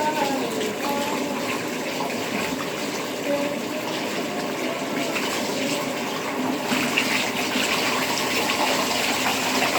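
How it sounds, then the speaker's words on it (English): Tap water runs steadily and broadband while a dog is rinsed off during a bath, a continuous close gush with faint voices in the background. "Turn the water back on."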